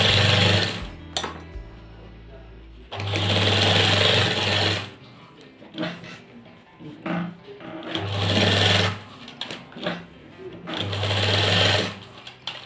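Steady whirring bursts from a sewing machine topstitching the placket strip of an apple cut shirt, roughly four close runs with short pauses and soft handling noise between them.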